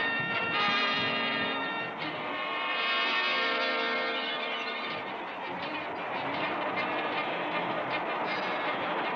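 A train rolls along the rails, heard from inside a compartment as a continuous loud rumble and rattle with faint rhythmic clatter throughout.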